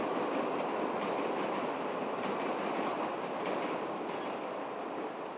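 An elevated train runs along the Loop tracks in Chicago, a dense, continuous rumble and rattle of rolling wagons that stays steady and loud throughout with no voices.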